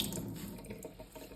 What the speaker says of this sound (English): very gently squeeze the sweater to try and get as much of the excess water as possible